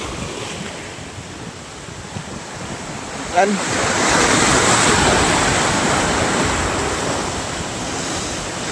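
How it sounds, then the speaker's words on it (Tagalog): Strong ocean waves churned up by Typhoon Uwan roar along the Samar coast in a continuous, heavy wash, with gusting wind buffeting the microphone and a brief spoken word partway through. "ang lakas ng alon"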